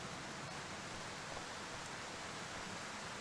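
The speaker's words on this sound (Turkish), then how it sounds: "Yine mi yağmur ya?" Steady rain in the Car Dealership Simulator video game, a constant soft hiss of falling drops with no voices, even and unbroken throughout.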